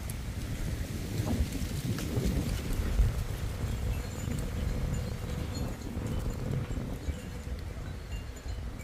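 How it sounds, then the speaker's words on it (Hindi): Cool wind blows through mango trees on a farm during the first rain of the season, a steady, fairly loud rush with gusty rumble and rustling leaves, with no talking. "और हवा की आवाज़ सुनिए आप।"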